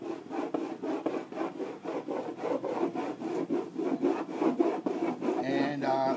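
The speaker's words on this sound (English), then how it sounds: "I'm going to do this rolling motion with the wax" Surf wax is rubbed onto a surfboard in light rolling strokes, a close, soft rasping scrape repeating in a steady rhythm of quick passes, with no voices.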